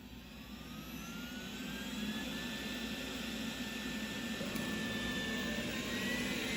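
A Roborock E4 robot vacuum cleans a medium-sized house on turbo mode, one step below max, giving a steady whirring whine that swells slightly in the first two seconds and then holds constant, with no talking.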